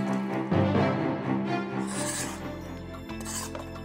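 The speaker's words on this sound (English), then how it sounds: "Use a produce brush to scrub fruits and vegetables that have a tough skin or peel." A produce brush scrubs tough-skinned vegetables, making close, uneven rasping and scratching strokes over a cluttered kitchen background.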